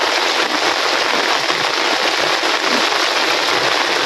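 Heavy rain pours down in a dense, steady roar, loud and close, during fishing, with constant hiss and patter throughout and no voices.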